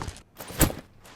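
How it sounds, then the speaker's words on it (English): Character footsteps in an Unreal Engine 4 game driven by FMOD adaptive foley: a few soft steps with one louder step in the middle, close and dry, with no talking. "We have footsteps"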